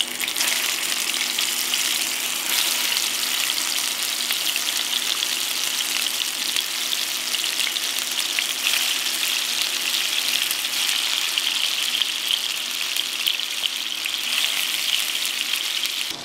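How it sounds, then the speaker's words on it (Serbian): Dough dumplings fry in hot oil, a loud, dense and continuous crackling sizzle heard up close and unbroken throughout, with no talking. "valjuške spuštam i pržim ih 2 do 3 minuta sa obe strane."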